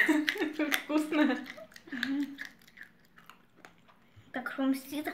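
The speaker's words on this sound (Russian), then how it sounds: "Как хрумстит." Crunchy snack food is chewed up close, with soft crunching and mouth sounds mixed under people talking.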